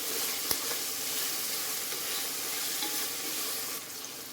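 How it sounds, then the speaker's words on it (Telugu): Curry leaves, tomatoes and onions fry in a pan with a steady, dense sizzle, broken by an occasional stir or clink, continuous and close throughout with no voices. "కరివేపాకు ఇవన్నీ వేసి టమాటా ఉల్లిపాయలు మెత్తగా ఫ్రై అయ్యేంత వరకు"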